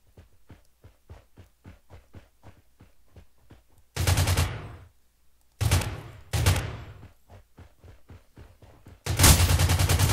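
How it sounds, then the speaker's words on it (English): Gunfire in the game Rules of Survival: a run of evenly spaced quiet thuds broken by several loud, dense bursts of rapid automatic shooting that ring out and decay. "I swear, I just heard somebody shooting at me"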